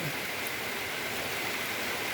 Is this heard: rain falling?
yes